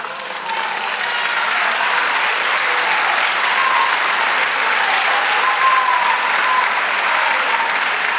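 A church congregation applauds in a sustained, even wash of clapping that swells slightly and holds steady throughout, with no voices over it.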